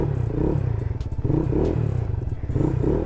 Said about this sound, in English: I love the sound of that new exhaust